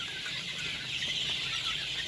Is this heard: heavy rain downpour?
no